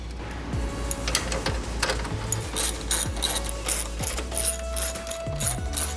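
A hand ratchet clicks steadily as it tightens bolts on a Dinan front-mount heat exchanger for a BMW F80 M3 with the S55 engine. The close, quiet clicking comes in short repeated strokes.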